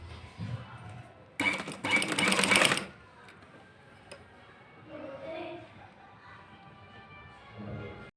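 Sewing machine stitching lace onto women's trousers, with a short loud whirring burst of about a second and a half, surrounded by quiet handling sounds and a voice speaking before and after.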